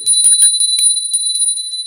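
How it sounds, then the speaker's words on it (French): A small hand bell rings with one bright strike, its high metallic tone sustaining and slowly decaying, clear and close over near silence. "Petit coup de petite cloche et on est parti."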